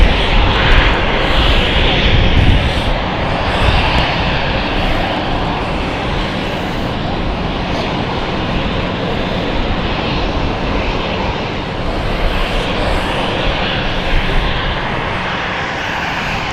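A KLM passenger airplane's engines at London City Airport roar loudly and steadily close by, a broad continuous jet rumble that swells slightly at the start and near the end, with no voices.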